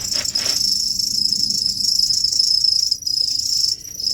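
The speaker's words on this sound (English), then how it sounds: "Sorry about the noise, there's a cricket in here somewhere." A cricket trapped indoors chirps loudly and close in a continuous high trill, with brief gaps near the end, and no speech over it.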